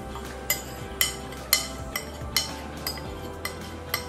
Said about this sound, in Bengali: এখন আমি চিনির শিরা করে তার মধ্যে দিয়ে দিলাম এই সুজির কাঠটা। এটার সাথে একসাথে দিয়ে আমি মিশিয়ে নিচ্ছি